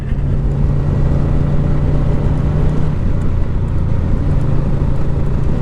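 A Yamaha VMAX motorcycle engine drones steadily while being ridden, producing a loud, close, continuous low rumble with a faint tonal whine and wind noise, with no talking.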